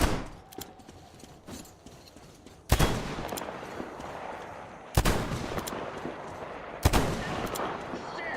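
Three sharp, loud gunshots spaced a couple of seconds apart in Metro Exodus, each ringing out over a quiet, faintly hissing background with lighter clicks and movement between them.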